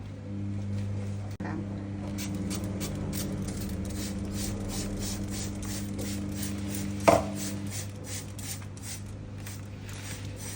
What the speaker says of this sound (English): now I'm gonna spray some water.